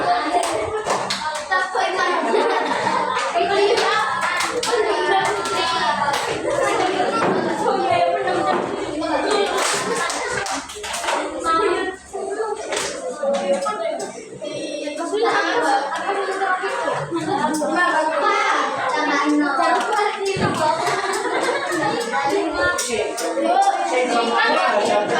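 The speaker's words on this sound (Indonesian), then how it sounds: "kita kasih tepuk jempol." Children in a classroom clap together in short rhythmic bursts of hand claps, mixed with lively chatter, children's voices and a teacher speaking, with brief pauses between the clapping patterns.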